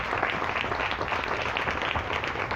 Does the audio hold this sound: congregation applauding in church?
yes